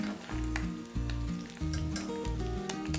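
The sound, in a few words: egg frying and sizzling in oil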